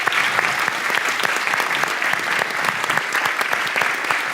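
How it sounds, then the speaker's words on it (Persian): A studio audience applauds a nine-year-old girl, Atiyeh, who has memorised the whole Quran, on a television show. The steady, dense applause is close and loud and continues without interruption. "عطیه عزیزمون رو تشویق بکنید"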